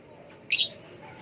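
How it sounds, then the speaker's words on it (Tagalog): Noisy pet birds give a single short, bright chirp close by, standing out against a quiet room. "Ayan po, yung makukulit, maiingay naming alagang ibon."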